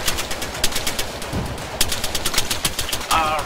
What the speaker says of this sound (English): There's like a dude with a machine gun lighting us up.